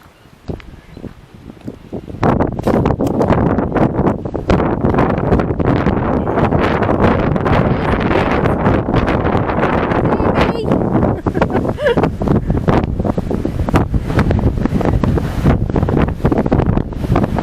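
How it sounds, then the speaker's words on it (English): Strong, steady wind on a clifftop at Dover roars and buffets the microphone after a brief quieter start, a continuous heavy rumble with occasional voices faintly underneath. "Slightly windy up here."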